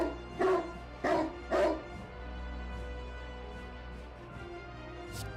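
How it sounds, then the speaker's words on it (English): A dog barks three times in quick succession, muffled and slightly distant as if underwater, against a steady low hum of game background music, then fades into the droning backdrop. "What is that dog?"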